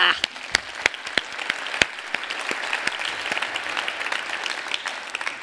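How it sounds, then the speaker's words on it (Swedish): Audience applause at a panel event on gender equality and growth: continuous crowd clapping with several sharp, close individual claps standing out over the steady patter. "Så att det finns en applåd för Anna!"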